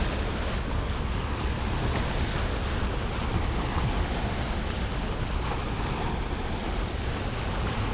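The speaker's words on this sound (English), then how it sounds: "the wake from that boat finally got over here" Boat wake waves wash onto the shore near a passing cruise ship, making a steady, loud rushing surf with some wind noise and no voices.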